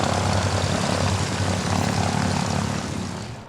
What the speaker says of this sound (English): First flown in 1935, the Catalina has proved to be one of the most successful aircraft of its kind.